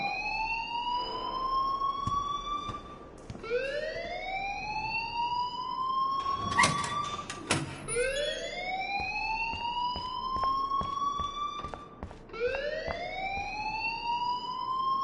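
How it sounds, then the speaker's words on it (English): An electronic alarm rings in the Life is Strange video game, a loud repeating rising siren-like wail in sweeping cycles of about four seconds, with a brief clatter partway through and no talk. "please turn off that alarm since that's your job"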